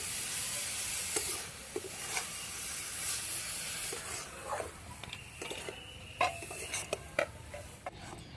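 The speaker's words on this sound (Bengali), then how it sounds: "ভালো করে নেড়ে চেড়ে নারকেলের ছেটা তৈরি করে নিতে হবে" Grated coconut with melting jaggery stirred in a pan for a sweet-potato pitha filling, a soft hissing sizzle under intermittent scrapes and taps of a spatula, close, growing sparser toward the end.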